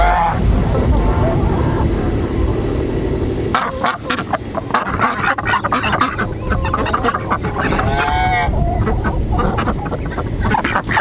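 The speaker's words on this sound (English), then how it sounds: "Our beautiful silver apple yard ducks." Silver Appleyard ducks quacking and honking loudly and continuously up close in a barnyard, mixed with other fowl calls and rustling.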